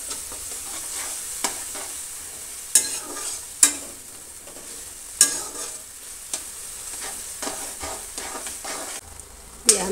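Fried taro (arbi) stirred into a yogurt curry in a pan, a soft simmering sizzle broken by repeated sharp scrapes and knocks of a spoon against the pan.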